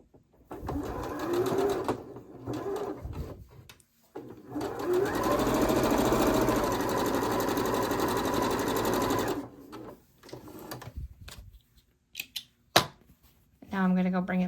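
Sewing machine stitching pinned quilt pieces for a Tree of Life block, running in a steady sustained whir for several seconds between shorter starts and stops, with voices talking around it.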